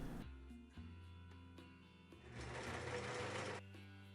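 Sewing machine stitching a seam joining a shirt yoke, running in a few short bursts, then a longer faster run before stopping, close and fairly quiet, with no talk.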